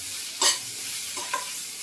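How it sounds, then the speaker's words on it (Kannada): Garam masala and turmeric fry in oil with a soft continuous sizzle, and two short scraping strokes of a spoon stir through the pan. "ಹಾಕಿದ್ರೆ 1 ನಿಮಿಷಗಳ ಕಾಲ ಎಣ್ಣೆಯಲ್ಲಿ ಫ್ರೈ ಮಾಡ್ಕೋಬೇಕು"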